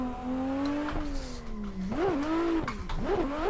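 A BMW E36 drift car's engine revs hard and close, its pitch climbing and falling through quick throttle blips with faint tire squeal mixed in.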